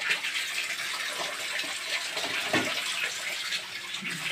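Water is poured into pasta masala cooking in a pan, making a steady hissing splash for several seconds with no talk over it.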